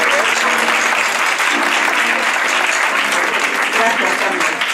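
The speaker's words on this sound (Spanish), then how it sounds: "Yo le vamos a dar un aplauso, aunque sea así la gente puede respirar de las emociones." Sustained, dense applause from an audience at a talk on creativity as therapy, honoring a painter, loud and steady throughout with a faint voice underneath.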